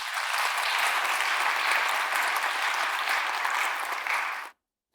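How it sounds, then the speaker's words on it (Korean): A church congregation applauds, a dense and steady round of clapping that fills a large room for several seconds before it stops abruptly. "영광의 박수"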